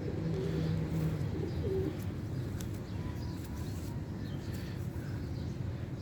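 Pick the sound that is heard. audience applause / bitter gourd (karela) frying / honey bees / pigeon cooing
pigeon cooing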